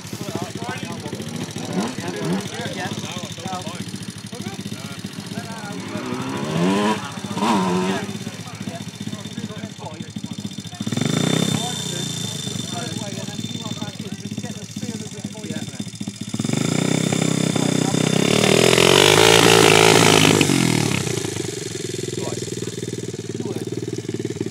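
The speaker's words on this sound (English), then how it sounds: "Just get used, Mike, get used to revving it a bit" A dirt bike engine runs and revs in Cornwall as a first-time rider gets used to the throttle, a steady buzzing drone that swells in louder revs, with wind and rumble throughout.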